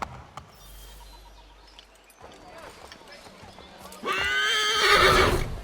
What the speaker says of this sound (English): that's an angry horse